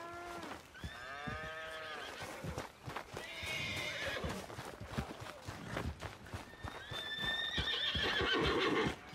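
A horse in Red Dead Redemption 2 gives repeated loud whinnies over clip-clopping hooves, with cattle lowing and other farm animal sounds close by.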